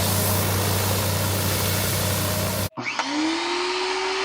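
A Greenworks 1900 PSI 1.2 GPM electric pressure washer runs with a loud, steady droning hum that cuts out abruptly and then restarts with a rising motor whine.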